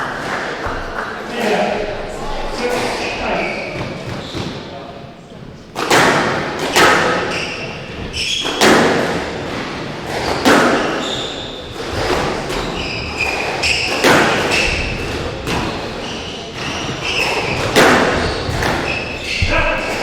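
Squash ball strikes in a PSA Challenger Tour match between Darren Rahul Pragasam and Chris van der Salm ring out as sharp, echoing thuds in irregular rally rhythm. Sneaker squeaks and crowd noise come through, with commentary running over the play.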